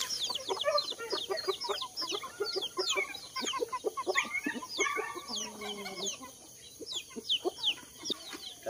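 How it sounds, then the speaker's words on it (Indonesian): A flock of farm chickens clucks busily at feeding time in a garden plot, with dense overlapping calls, close and moderately loud, plus an occasional low voice. "Jadi, mari kita bagi makan ayam sikit lah."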